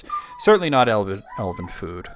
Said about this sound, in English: Sorry about the dog whining